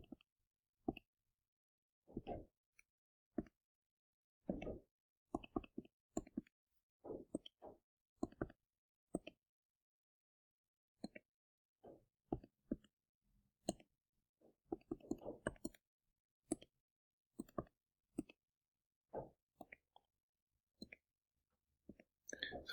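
Calculator keys tapped in quick irregular runs of faint plastic clicks, close by, with brief pauses between bursts of typing.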